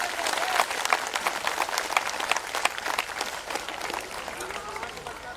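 An audience claps in a steady, dense round of applause for a mother's lifetime achievement award, with a faint murmur of voices underneath, holding fairly even before easing slightly.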